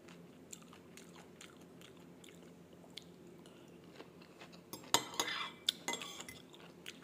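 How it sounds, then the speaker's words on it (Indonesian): Someone eats raw red onion with a meal, soft biting and chewing crunches up close, with light clinks of cutlery and dishes and a louder burst of crunching near the end. "Lalap bawang bombay merah ya."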